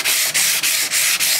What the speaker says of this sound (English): I told you I'd show a little bit of sanding going on